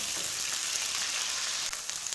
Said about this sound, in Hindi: लहसुन और अदरक का पेस्ट है ये इसके अंदर डालेंगे और 2 मिनट तक तकरीबन 2 मिनट के लिए इसको फ्राई कर लेंगे